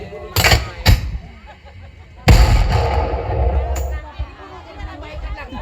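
Gunshots from a theatre drama about General Soedirman resisting the Dutch military aggression, staged for Indonesian Independence Day: two quick loud bangs, then a heavier blast and another shot, over crowd murmur.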